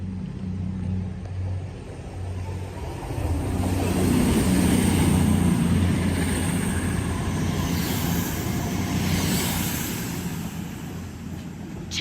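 Passenger train at Oxford station, a low rumbling, droning roll that swells near the middle and then eases, with no talking over it.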